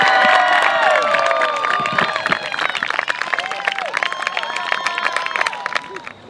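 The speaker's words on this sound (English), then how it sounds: "let's have a big round of applause for Jonathan De Diego" A school crowd cheers and claps for a senior soccer player at a senior salute, loud and steady throughout, with shouted whoops and whistling cries riding over the applause before it tapers off at the end.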